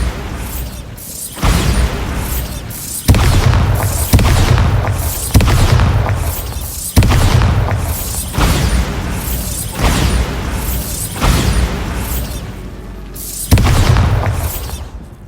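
Bombarda spell explosions go off in the Hogwarts Legacy video game: about ten loud, booming blasts arrive one after another at roughly one-to-two-second intervals, each with a rumbling tail, and no voices are heard.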